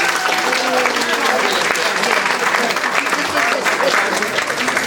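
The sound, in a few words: audience applause at ketchup recipe contest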